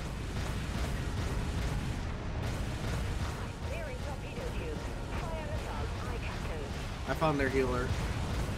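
A nuke strikes a ship in the game Dreadnought, a heavy sustained explosive rumble that fills the clip, with someone speaking over it near the end.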